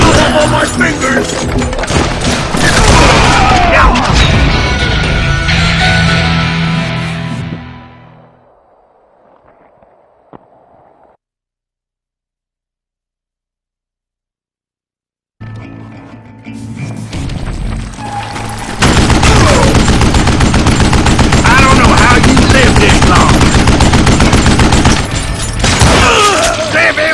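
Loud, dense gunfire from the Call of Juarez Gunslinger video game, continuous booming shots and impacts, then a few seconds of silence before heavy firing and crashes resume with game music.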